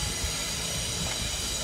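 Class 444 electric multiple unit 444013 running through Poole station on a curved platform, a loud, steady rolling rumble with a broad hiss and faint wheel noise, no voices.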